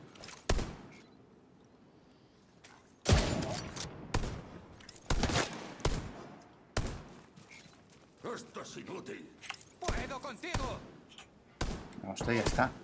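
Bursts of machine-gun fire and sharp shots from a firefight in The Division 2 video game, loud and close, arriving in irregular volleys separated by brief lulls, with a voice talking over parts of it.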